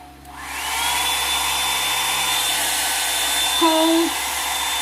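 A Revlon One Step hair dryer and volumizer switches on and settles into a loud, steady whooshing hum of motor and airflow, with a brief shift in pitch near the end.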